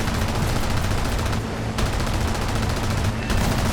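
Aircraft turret machine guns firing in War Thunder, the gunners of a BV 138 C-1 flying boat in action, giving steady dense bursts of gunfire over loud continuous engine and battle noise with short gaps.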